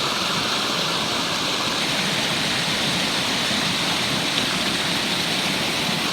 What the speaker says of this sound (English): as this water is flowing over the rocks